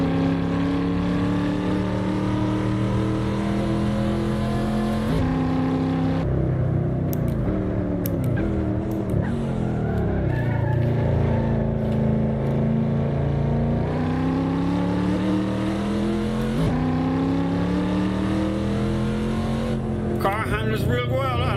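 American muscle car engine in the Assetto Corsa racing game, a loud droning V8-style roar that climbs in pitch through the gears with brief dips at shifts, sustained and continuous, with a voice talking over it.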